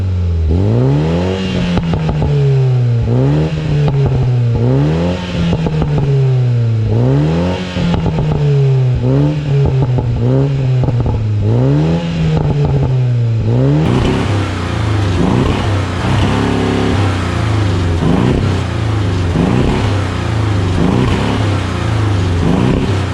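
A 2019 BMW Z4's engine revs repeatedly in rising and falling sweeps, then settles into a steadier, rougher idle-like drone, loud and close throughout.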